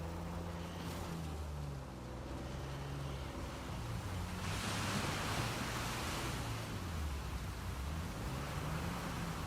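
Steady roaring water from a waterfall in Uncharted 4 fills the scene as a continuous broadband rush, with low game music notes moving beneath it and the spray swelling louder midway through.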